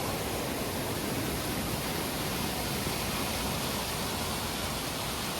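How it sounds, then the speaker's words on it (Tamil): A waterfall pours down in Val Tartano, Italy, as a steady, dense roar of rushing water that fills the whole clip without pause and with no voices. "நீங்களே பாருங்கள் அந்த அருவி வந்து எவ்வளோ அருமையாக கொட்டிக்கிட்டு இருக்குன்னு"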